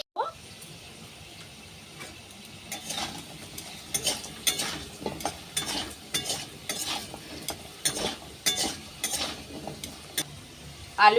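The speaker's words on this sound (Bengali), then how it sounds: "আলুগুলো বেশ লাল লাল করে ভেজে নিয়েছি," Potatoes frying in a pan with salt, a soft steady sizzle under repeated scraping and stirring strokes that grow busier toward the end.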